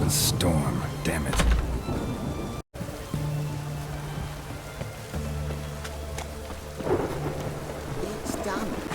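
A thunderstorm with steady rain and deep rumbling thunder fills a scene in the video game The Witcher 3, with a brief sharp cut partway through and sustained low rumbles after it.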